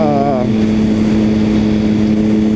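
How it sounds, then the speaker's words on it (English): A 2006 Triumph Speed Triple engine bogging down, a loud steady low drone that sags and labors, with a brief falling whine at the start. "here you can really hear the bike kind of bog down"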